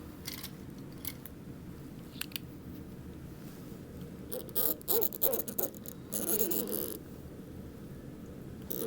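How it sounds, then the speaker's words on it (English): Sewing scissors snip the fabric seam allowance of a tote bag, giving a few quiet close cuts followed by a short cluster of crunchy snips over a low room hum, with no talk. "So right now I'm just going to clip the center."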